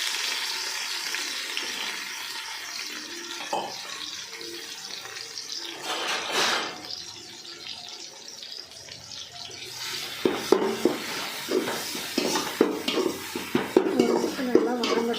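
Crushed country garlic and onion sautéing in a pan for a Tamil fish kulambu, a soft sizzle under clinking and scraping of a spoon against the pan, with sharper metallic knocks toward the end.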